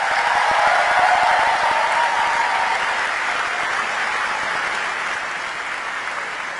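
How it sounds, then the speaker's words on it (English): Sustained applause with some cheering from a large audience at a youth summit as the 2022 councillors leave the stage, a dense steady roar of clapping that fades gradually. "give them that huge cheer"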